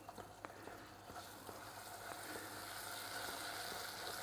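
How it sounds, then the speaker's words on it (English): Hot sugar boiling and sizzling in a pan on the stove, a steady soft bubbling hiss with faint clicks, quiet and close, no talking. "Hear it boiling? That's how hot the sugar is."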